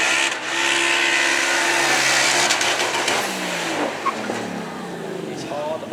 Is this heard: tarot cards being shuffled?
no